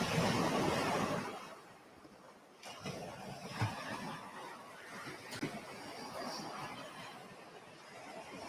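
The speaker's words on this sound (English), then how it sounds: "you hear the sound of the ocean and the waves" Ocean waves wash in soft, distant surges, a broad rush that swells and fades, fairly quiet with faint breezy noise.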